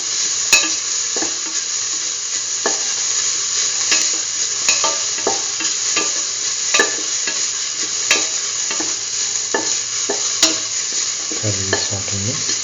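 Shallots sauté in a pan for a curried egg mung bean stew, with a steady, close sizzle and regular spatula scrapes and taps against the pan throughout.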